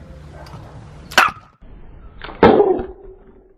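A dog nibbles and bites at a camera lens, giving two sharp close clicks and scrapes against the glass with soft snuffling between them.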